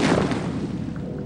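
A detonation inside a room: one loud, dense blast of broadband noise that fills the space at once and slowly fades into a rumbling tail.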